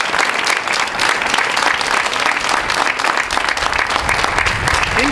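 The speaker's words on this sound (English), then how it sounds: "Please, big round of applause to all our speakers." A crowd at a Black Lives Matter police-reform rally gives speakers loud, dense applause. It is sustained and close, with scattered cheering voices mixed in throughout.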